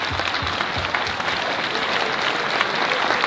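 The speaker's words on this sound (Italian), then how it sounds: "applauso" An audience breaks into applause, a dense, even wash of many hands clapping that holds steady throughout the short stretch.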